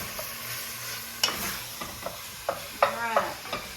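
Ground meat browning in a pan for homemade spaghetti sauce, sizzling steadily at low level while a spoon scrapes and stirs in several short clattering bursts.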